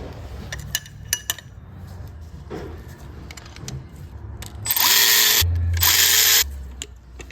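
Timing chain guide bolts are tightened on a Chevrolet Equinox 2.4 L engine. Metallic clicks and clinks of tools are followed by two loud bursts from a power tool, each lasting about a second, close up with no speech.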